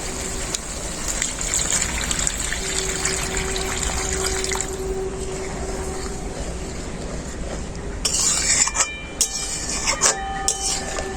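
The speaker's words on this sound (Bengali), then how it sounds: "এখন আমি পরিমাণ মতো জল দিয়ে দেব।" A steady gush of water pours into a pan of pointed gourd curry with a rushing hiss, followed by some bubbling and faint clatter.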